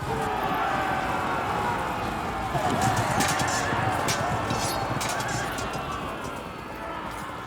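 Horses neigh and hooves gallop in battle sounds from the strategy video game Field of Glory 2, in a Byzantine match, with a steady dense cavalry rumble throughout.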